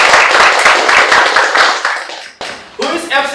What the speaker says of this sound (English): give applause for us.